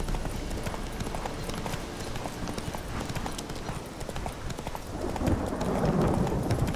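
Horse hooves clip-clopping steadily on the ground in The Witcher 3 video game, a continuous close rhythmic gait that grows louder and busier near the end, with no talk over it.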